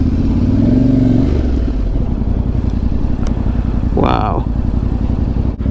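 A motorcycle engine drones steadily up close as the bike is ridden up to a stone-piled viewpoint in Norway, a rider speaking briefly over the rumble.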